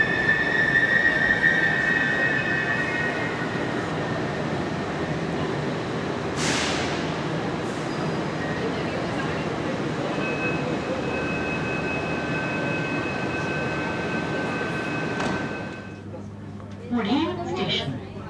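A Pune Metro Aqua Line train pulls into the station with a loud steady rumble and high whine lasting many seconds, then slows and quiets near the end as a brief chime and announcement-like tones sound.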